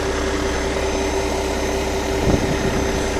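A Peterbilt 386 truck engine idles steadily with a constant low hum and a single brief bump near the end, loud and close with no talking.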